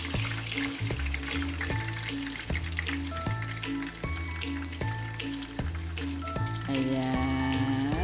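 Fish frying in oil in a pan, a steady crackling sizzle running throughout at close range, with a looping rhythmic tone underneath and no voices.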